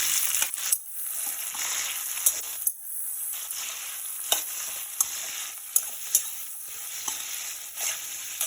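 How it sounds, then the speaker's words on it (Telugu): Tomatoes fry in a pan for an Andhra-style dondakaya masala curry, giving a continuous bright sizzle with occasional scraping and tapping from stirring, close and fairly loud, with no voices. "ఇందాక చెప్పిన 3 టమాటాలు కడిగించుకొని ఇందులో వేసుకొని బాగా ఫ్రై చేయాలి"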